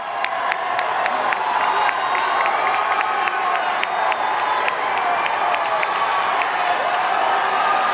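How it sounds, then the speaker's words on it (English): A pageant audience at a preliminary evening gown competition claps and cheers steadily throughout, a dense, loud wall of applause with scattered whoops and shouts rising above it. "Let's give those contestants one more loud round of applause."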